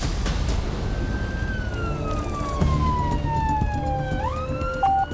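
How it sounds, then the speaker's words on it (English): Ambulance siren wailing on an emergency call, a loud sweeping electronic tone that glides down in pitch, then jumps sharply up and switches to a rapid yelp near the end, over traffic noise. "the ambulance is coming"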